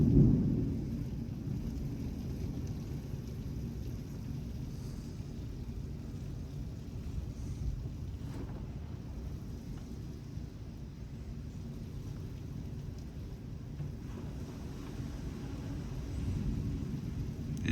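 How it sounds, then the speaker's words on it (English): Intense storm winds roar steadily during a severe, tornado-warned thunderstorm in Houston, Texas, a dense low rumble that swells at the start and end, with faint distant thunder mixed in. "the winds are really intense."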